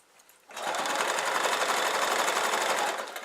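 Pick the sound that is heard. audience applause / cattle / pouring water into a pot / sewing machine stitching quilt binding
sewing machine stitching quilt binding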